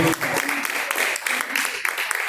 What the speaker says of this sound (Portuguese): palmas que louvam e engrandece o nome do Senhor.